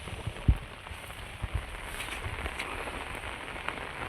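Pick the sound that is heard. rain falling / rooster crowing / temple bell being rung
rain falling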